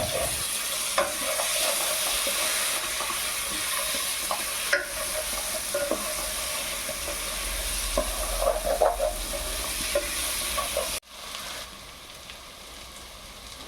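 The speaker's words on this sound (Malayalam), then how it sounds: "നേരത്തെ പൊതിച്ച് മാറ്റി വെച്ച ചിക്കൻ ചേർത്ത് കൊടുക്കാം നന്നായി ഇളക്കി കൊടുക്കുക" Chicken for a street-food style dish being stirred in a hot pan, with a continuous sizzle under frequent scraping strokes that stops abruptly near the end.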